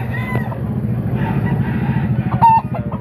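A White Hatch gamefowl rooster at an outdoor market calls out nearby, clucking and crowing briefly over busy background murmur.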